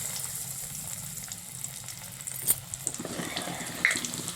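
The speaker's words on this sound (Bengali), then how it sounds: "কড়াইয়ের তেলটাও গরম হতেই চলেছে, তো আরেকটু গরম হলে এক এক করে আমরা বলসগুলোকে ছেড়ে দেবো।" Egg potato balls deep frying in hot oil in a wok, a steady close sizzle with a few sharper crackles and pops breaking through midway.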